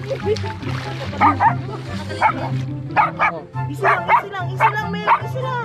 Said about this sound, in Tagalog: Yan yung aso guys, medyo matapang.